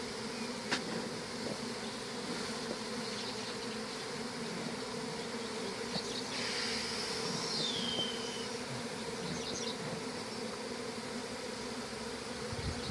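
Honeybees swarm around an open hive with comb, a dense continuous buzz near and far holding steady throughout, with individual bees droning past up close.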